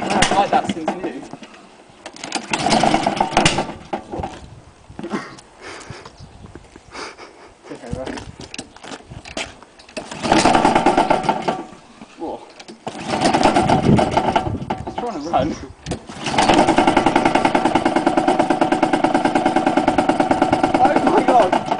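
A Honda lawn mower engine running on white spirit sputters through several uneven bursts of running, then settles into a loud, steady idle near the end, with people talking over it.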